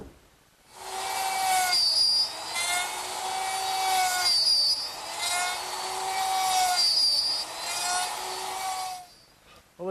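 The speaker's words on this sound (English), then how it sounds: "just take the side pieces and slide them in and cut the pins with the router" A router whines steadily as it cuts the pins on wooden side pieces, the high tone dipping briefly three times between passes before stopping.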